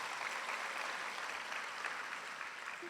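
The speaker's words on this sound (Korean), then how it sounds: "박수 한번 다시 한번 드리겠습니다" Applause from the audience at a prayer rally in Busan, a steady, faint wash of many hands clapping heard from a distance without a break.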